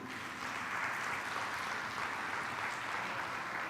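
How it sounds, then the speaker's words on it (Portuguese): A church congregation applauds during a Portuguese-language sermon, a steady, even wash of distant clapping that holds at a constant level throughout, with no voices on top. "Quem recebe, aplaude Jesus."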